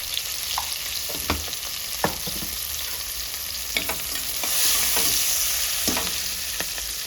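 Onion pieces and turmeric frying in a pan, a continuous close sizzle broken by scattered stirring clinks and scrapes, with no voices.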